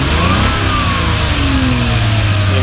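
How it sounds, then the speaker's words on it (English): A 1982 Ferrari 400i V12 with CIS injection revving up loudly and close, the engine note sweeping upward and holding a strong, throaty roar throughout. "So go ahead and rev it up another time."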